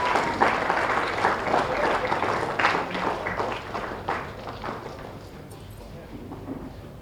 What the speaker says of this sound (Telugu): వారి సభ్యులందరూ కూడా మన చప్పట్ల ద్వారా అభినందనలు తెలియజేస్తున్నాం